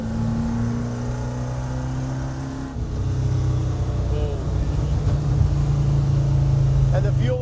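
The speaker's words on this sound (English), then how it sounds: "Look at how it goes down the road, Brady." A 1965 Pontiac GTO with fuel injection cruises down the road, its engine a steady low drone heard from inside the car that steps up in tone midway, with people talking over it.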